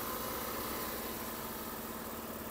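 A 2021 Toyota Rush engine idling during an automatic transmission fluid check, a steady close drone with a constant hum and no change in pitch or level.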